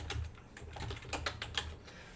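Fingers type on a computer keyboard while filling in a form field, a short close burst of light, irregular key clicks and taps with no speech.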